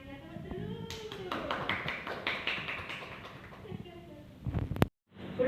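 A classroom of children clap together in a rhythmic patterned clap during a primary school lesson, a burst of quick sharp claps at close range, with a teacher's and children's voices around it.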